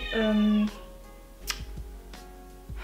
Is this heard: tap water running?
no